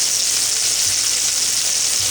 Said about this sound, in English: There's a lot of really good things that are going where that meat hitting that pan